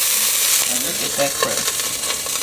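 Beef searing in a pot for ramen soup gives a steady, close, loud sizzle with crackling spits throughout.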